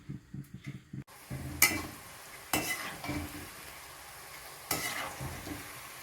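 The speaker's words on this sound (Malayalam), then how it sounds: "വെളിച്ചെണ്ണയിലാണ് നമ്മളിത് വറക്കുന്നത്." Jackfruit pieces frying in boiling coconut oil, with bursts of close sizzling as they drop in and are stirred, and scraping and clinking of utensils against the pan between the bursts.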